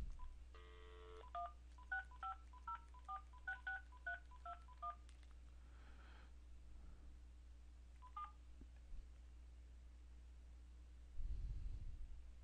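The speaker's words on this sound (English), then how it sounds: "So I'm going to dial into the 650-466-3217 number now." Telephone keypad DTMF tones dial a phone number as a quick series of clean, evenly spaced beeps. Two more beeps come later over a faint hiss, ending with a low rumble.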